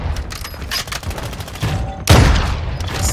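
Rapid gunfire bursts in Warzone 2 DMZ, loud close automatic fire in quick rhythmic volleys, then a heavy booming shot followed by a sustained roar of firing.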